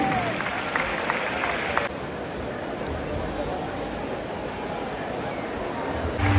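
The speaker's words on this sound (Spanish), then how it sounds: "Ovación, ganada ley para estos cuadros" Crowd ovation rolls through the stands at a San Fermín 2025 bull-leaping competition with brave bulls, a dense, steady roar of applause and cheering that carries on throughout, with voices mixed in.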